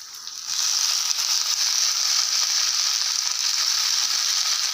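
Chopped tomatoes and chillies sauté in a hot pan for a chutney, a steady, close hissing sizzle that rises after a brief quieter start and holds evenly throughout, with no talking.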